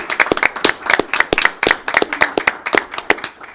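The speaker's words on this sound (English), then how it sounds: "I think that list of accomplishments deserves a round of applause first." A small group of colleagues at a meeting claps for a coworker's accomplishments, distinct close hand claps in an uneven, sparse rhythm, each sharp and separate, with no talking.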